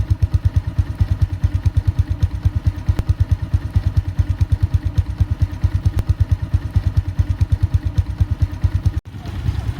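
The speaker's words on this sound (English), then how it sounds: "Now we go to get the exhaust note of the bike." Bajaj Avenger 150 cruiser motorcycle idling, its exhaust thumping in a steady, even pulse close to the microphone, loud and alone for nearly ten seconds with a brief break near the end.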